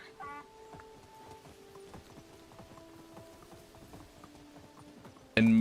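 Horse hooves clip-clop at a steady trot in the video game Medieval Dynasty, fairly soft and even over quiet ambience, with a sudden loud burst of another sound at the very end.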